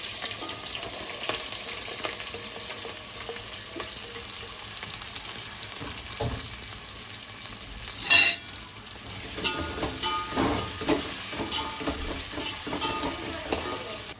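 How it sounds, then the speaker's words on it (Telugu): Onions and green chillies fry in hot oil for a crab curry, with a steady sizzle and frequent stirring scrapes, plus a sharp clatter midway. The sound is close and continuous, with no talking. "ఇంకా ఇక్కడైతే ఆయిల్లో ఉల్లిపాయలు అయితే వేసుకుంటున్నాడు"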